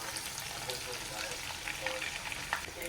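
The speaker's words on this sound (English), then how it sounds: "to fry my sliced onions until translucent" Sliced onions fry in a big pot of oil on medium heat for a Ghanaian beef stew, giving a soft, continuous crackling sizzle with small pops and stirring scrapes close by.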